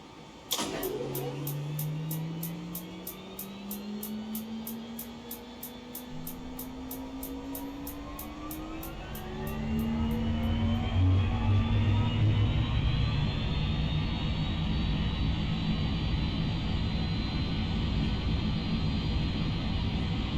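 A Cessna 208B Grand Caravan turboprop in X-Plane 12 winds up from the starter, a rising whine that builds steadily into a loud, sustained engine roar, opening with a rapid ticking of igniters.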